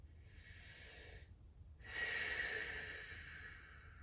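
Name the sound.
deep cleansing breaths during yoga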